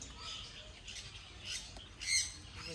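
A Senegal parrot at a pet sanctuary gives several short, sharp squawks, with the loudest near the end, over a light background hum.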